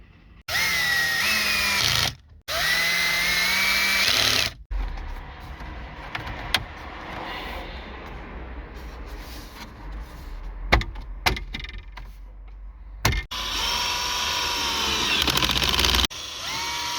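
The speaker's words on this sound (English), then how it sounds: "then I just set my drill to match that" Cordless electric drill driving screws during a Volkswagen car radio repair, several bursts of steady whirring with abrupt starts and stops, separated by quieter clicks and handling noise, close by and alone.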